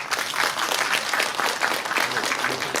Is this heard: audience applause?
yes